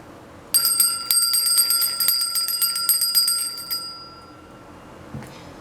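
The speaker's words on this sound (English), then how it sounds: "You chose the ringing bell." A bright bell rings in a quick burst of repeated metallic strikes, loud and ringing out for about three seconds before fading to quiet, with no talk.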